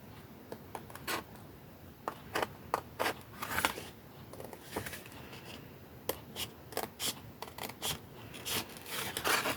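Scissors cut through a paper template in a quick series of crisp, close snips, some spaced out and some in short bursts, quiet and alone with no talk.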